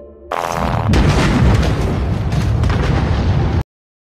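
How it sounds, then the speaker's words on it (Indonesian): Cinematic explosion as an alien cyborg self-destructs in a film, a sudden loud booming blast that rumbles and crackles for about three seconds before cutting off abruptly. "Alien yang telah berhasil menjalankan misinya langsung meledakkan diri bersama dengan The Guardian."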